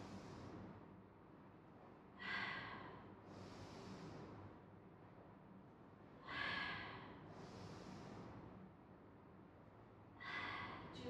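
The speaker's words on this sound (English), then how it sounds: "deep breath in" During a spine-strengthening exercise, a person takes deep breaths three times, each a soft, close, airy inhale with a breathy exhale, heard over a quiet background hiss.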